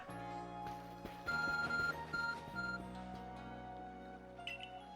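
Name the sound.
Arc phone beeping in Pokémon Legends: Arceus video game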